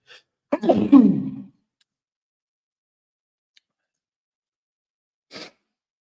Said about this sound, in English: Pardon the sneezing.